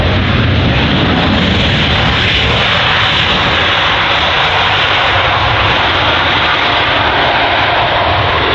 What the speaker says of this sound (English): Very loud there was the A320neo